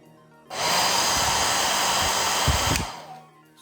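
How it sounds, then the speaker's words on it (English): A hair dryer blows to dry off a wiped-down Star Wars toy vehicle, the Naboo Royal Starship, a loud steady whooshing roar switched on and running close by for a few seconds before stopping. "I've also got a hairdryer as well, because I'd like to dry that straight away"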